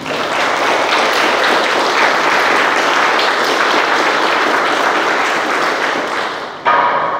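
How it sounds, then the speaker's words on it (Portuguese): Congregation applauding at a Catholic Mass right after the Gospel reading, a loud, dense and steady wash of many hands lasting several seconds, then cutting off abruptly near the end. "Vamos aplaudir esta palavra"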